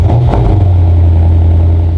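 Lexus RC F V8 with an aftermarket valved exhaust fires up and settles into a loud, deep, close idle burble after a brief initial rev, with no talking.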